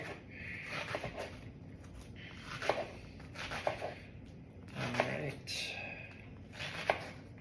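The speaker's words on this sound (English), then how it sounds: "I'll try and cut this onion off a little faster." A knife slices through an onion on a cutting board for fire cider, a series of soft, irregular chopping taps close by, heard under a low background hum.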